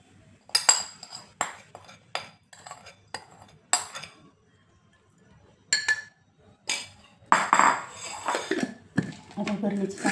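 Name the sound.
pickle being filled into a jar, utensils clinking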